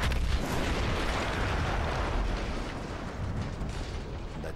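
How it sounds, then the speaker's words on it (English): A World War I-era blast from the video game Battlefield 1 fills the space with a heavy, sustained rumble, dense and loud, slowly easing off without any talking. "That explosion was one of the sweetest sights of the war for me."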